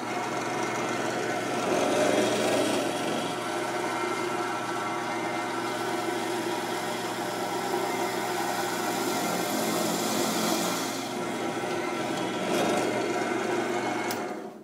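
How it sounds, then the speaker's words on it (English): A small electric drill with a small bit whirs steadily and continuously for several seconds, close and fairly loud, with a slight dip in pitch midway. "Alright, so we're drilling for the post setting."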